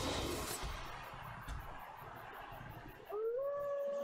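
The wolf Sif in the video game Dark Souls lets out a single rising, drawn-out howl near the end, following a stretch of quiet game ambience and low rumbling.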